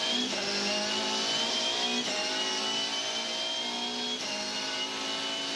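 V8 Supercars race at Pukekohe Park Raceway in Auckland in 2014, with Holden, Volvo and Ford cars in the field: loud, sustained engine roar with shifting, rising pitch from cars passing close, running continuously throughout without talk.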